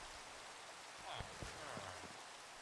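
Minecraft rain falling as a soft, steady hiss of broadband patter, faint and continuous, with a few light in-game clicks and thuds over it.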